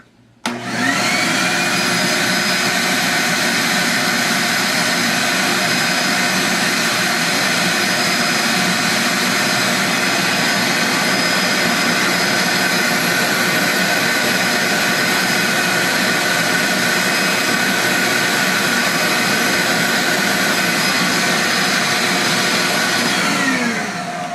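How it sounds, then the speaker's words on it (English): A shop vac powers a homemade bee vacuum, kicking on abruptly and then holding a loud, steady high-pitched roar and whine that runs unbroken for over twenty seconds with no talk. "Turn it on the shop vac here in about 5, 4, 3, 2, 1, shop vac."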